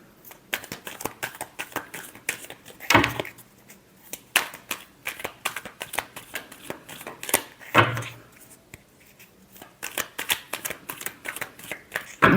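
Tarot cards being shuffled by hand: close, crisp riffles and flicks in repeated bursts, with two louder, fuller riffles standing out and soft paper rustles between them.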